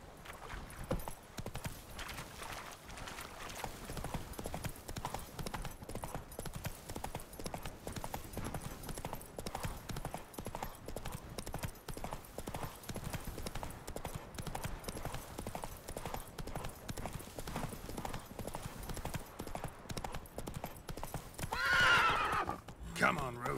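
Geralt's horse Roach in The Witcher 3, trotting with a steady, close clip-clop of hooves throughout, joined near the end by a brief whinny, under a faint voice.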